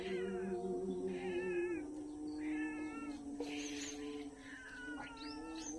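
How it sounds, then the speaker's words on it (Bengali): A cat meows repeatedly in a quiet, deserted outdoor area, several drawn-out, wavering calls close by with short pauses between them, heard alone. "বিড়ালটা আমার দেখে ডাকছে"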